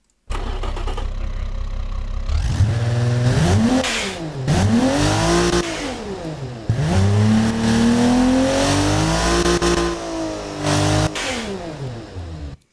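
Engine sound from a car built in the video game Automation starts up and then revs repeatedly, its pitch sweeping up and down through several climbs to high RPM and drops, loud and close, with no talking.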